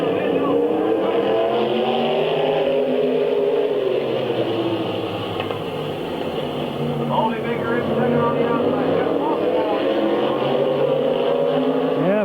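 Several race cars roar around the oval at Midvale Speedway, an engine drone that swells and recedes continuously as cars pass close by, with a race announcer talking over the noise throughout.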